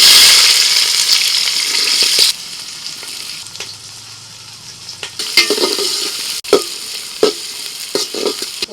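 Carrots, beans and peas frying in hot oil with bay leaf, cardamom, cinnamon and cloves in a thin pot over a strong flame: loud steady sizzling with stirring scrapes and occasional sharp clinks of a utensil against the pot.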